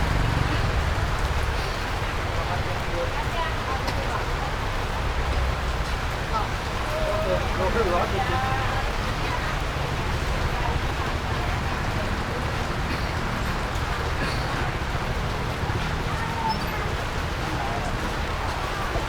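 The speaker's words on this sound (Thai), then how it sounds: "งานเข้าแล้วฝนตก" Steady rain patters down at a roadside durian stall in Rayong selling Monthong durians, a constant broadband wash of drops running the whole time beneath people talking nearby.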